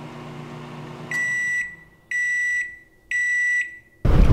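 A microwave oven sounds three evenly spaced, loud electronic beeps, each about half a second long, followed by a sudden burst of noise at the end.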